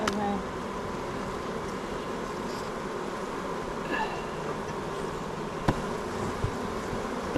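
Honey bees hum in a steady, dense drone around an open hive during a September inspection while requeening, the buzz filling the whole span with a few brief knocks from handling.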